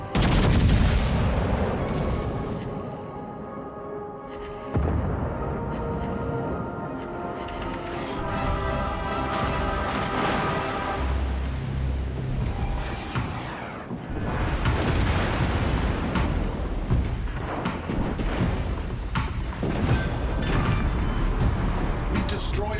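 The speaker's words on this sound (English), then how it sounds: "We've destroyed an enemy battleship!" Gunfire and explosions from a naval battle in World of Warships Legends as an enemy battleship is destroyed, a dense, loud, continuous barrage of booms and shots with music-like tones layered throughout.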